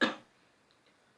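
A single short cough from a dry throat just after waking, close and fairly loud, fading quickly into near silence.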